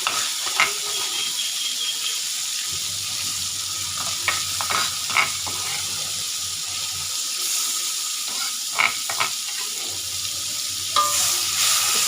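Seasoning sizzles and is stirred in a hot pan while cooking Indonesian oseng pete, a steady frying hiss with intermittent scraping and clinking of the utensil, no talking.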